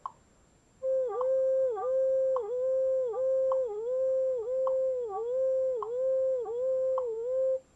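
A flute played with a rapid finger trick over the holes, a steady high tone warbling in quick regular dips to imitate crickets, close and clear with no talking.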